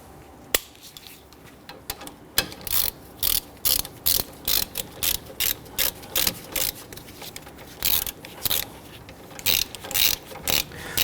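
Ratchet snugging the upper and lower brake caliper bolts on a 2011-2015 Kia Sorento during a front caliper replacement, sounding as a close, loud run of quick repeated clicking bursts in a steady rhythm with no talk.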